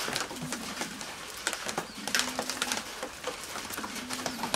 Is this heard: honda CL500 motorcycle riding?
no